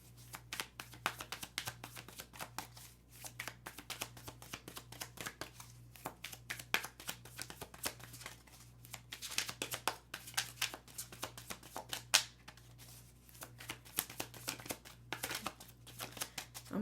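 Tarot cards being shuffled and handled close up, with continuous soft riffling, flicking and tapping over a low steady hum, no voice.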